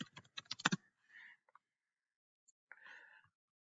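Rapid clattering keystrokes on a computer keyboard come in a dense, close burst at the start, then fade to near silence broken by a few soft, breathy rustles.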